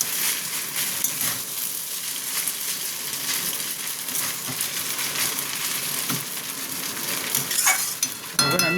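Vegetable chow mein being stir-fried in a pan, with a steady close sizzle and continual stirring and scraping throughout, and a few sharper utensil clinks near the end.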